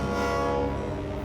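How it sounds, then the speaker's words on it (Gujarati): An approaching train in an animated children's story sounds a steady, sustained horn, moderately loud with no voices over it. "ત્યાં જો ટ્રેન આવી રહી છે."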